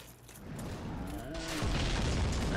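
A bomb goes off in the video game Dark Souls, a muffled rumbling boom that swells about halfway through and lingers loud over low game noise and a faint tonal whine.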